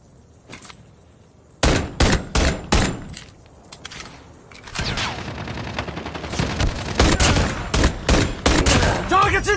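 Pistol fire in Call of Duty Mobile: sharp, loud single shots in a quick run, then a stretch of dense, rapid gunfire and impacts, close and harsh.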